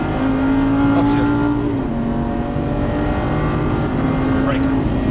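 A Lamborghini Gallardo Superleggera LP570-4 pulls hard at full throttle, its engine a loud steady drone close by, with a shift partway through and a voice talking over it.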